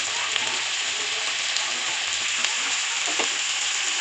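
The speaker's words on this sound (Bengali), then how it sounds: "পেঁয়াজগুলো একটু নেড়ে ছেড়ে নিতে হবে।" Chopped onions and capsicum stir-fried in a pan, giving a loud, steady sizzle throughout with faint scraping from the stirring.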